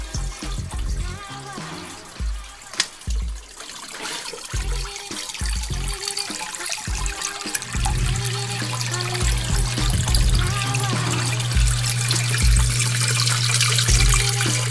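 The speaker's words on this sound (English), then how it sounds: "water is what is being dumped into the drain on the opposite side of the house, and it's coming through clear" Water runs through a basement drain on the opposite side of a house, a steady trickling and gurgling flow that swells into a continuous rushing stream partway through, close and fairly loud with no talking.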